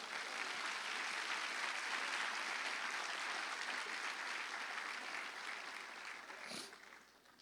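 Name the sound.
congregation applauding in church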